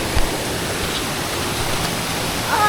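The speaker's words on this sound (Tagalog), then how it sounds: "Eagle Falls." Eagle Falls waterfall roaring as a steady broadband wash of falling water, loud and constant, with a brief thump near the start and a faint voice near the end.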